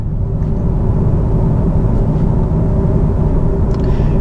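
Steady engine drone inside a 2022 Hyundai Sonata N Line with active sound design set to strong, a low continuous rumble with a faint tonal hum, heard from the cabin while cruising.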